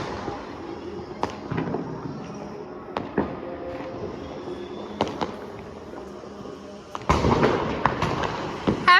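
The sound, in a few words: Diwali firecrackers bursting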